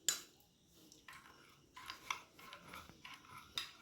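Custard powder stirred into cold milk, a spoon scraping and clinking against the bowl in short uneven strokes, close and fairly quiet, with no talk.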